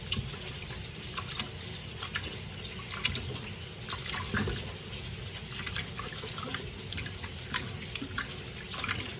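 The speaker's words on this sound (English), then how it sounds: "So I'm going to wash out the rice, dump this water, put some more water, wash it" Rice being washed by hand in a bowl of water, with steady sloshing and trickling splashes throughout, close and moderately loud, no talking.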